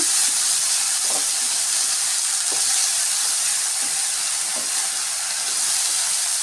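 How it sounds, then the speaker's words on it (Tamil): Broad beans are sautéed with onions in a pan, giving a loud, constant hiss and sizzle with soft periodic stirring scrapes and no voices. "ஒரு ஒரு நிமிஷம் இந்த மாதிரி வதக்கி விடுங்க"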